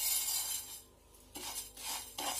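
Brown rice dry-roasting in a pan without oil, with soft scraping and clinking of a utensil stirring the grains. The stirring comes in a few short bursts, quiet and close, with no voices.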